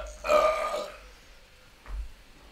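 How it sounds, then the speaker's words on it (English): A loud, long burp from a livestreaming gamer playing No More Heroes: Travis Strikes Again, followed by a second, shorter belch about a second later, with faint game audio underneath. "You just make a compilation of every time I burp."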